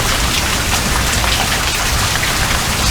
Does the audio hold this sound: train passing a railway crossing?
no